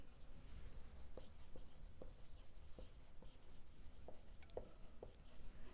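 Chalk or marker writing narration on a board in an accounts lesson, a soft faint scratching with small tapping strokes at irregular intervals over low room hum.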